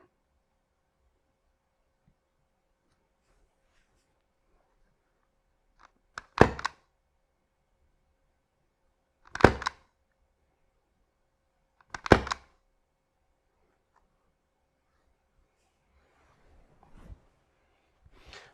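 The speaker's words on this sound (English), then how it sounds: "the actual body of the pistol is going to be wrapped in a blanket to muffle the sound, and all you'll get is the silencer" A silenced Novritsch SSX-23 airsoft pistol, its body wrapped in a blanket, fires three short muffled thumps spaced a few seconds apart in a quiet room, followed by faint handling noise.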